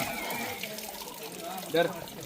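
Hot spring water at Rajapur Ganga flows and splashes in a steady close wash, like a running tap into a basin, with a short louder splash near the end and people talking over it.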